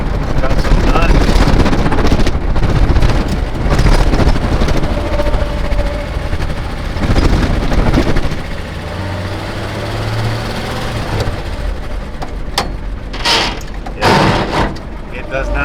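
A 1941 Chevy Coupe project car on a short drive, its engine rumbling loud and close with wind buffeting the microphone, the engine note rising and falling, and a low whine appearing midway.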